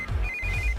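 A steady electronic phone ringtone tone sounds twice, a short beep then a longer sustained ring, over a low background rumble.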